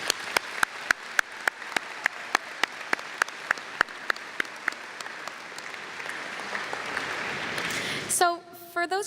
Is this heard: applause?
yes